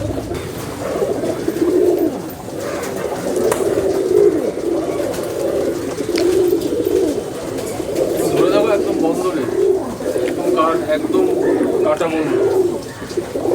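Madrasi pigeons in a large loft coo continuously in layered, overlapping rolling calls, a dense flock close to the listener, with a voice talking intermittently over them.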